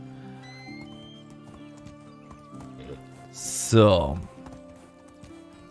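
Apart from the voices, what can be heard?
horse hooves while riding, Medieval Dynasty video game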